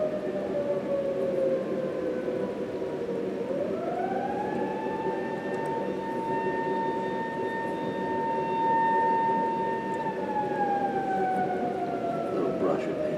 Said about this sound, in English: Why does the fire sirens always blow when I'm filming?